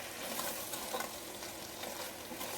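Crab being stirred with turmeric powder in a pan using little oil, a soft continuous sizzle with light scraping strokes, fairly quiet and close, no voices.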